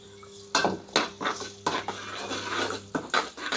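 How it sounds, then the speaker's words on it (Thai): Chili and garlic go into hot oil in a pan while frying pork-crackling kale, giving a close clatter of utensil on pan in several bursts with faint sizzle underneath, no talk. "น้ำมันร้อนแล้วค่ะใส่พริกกระเทียมลงไปเลยค่ะ"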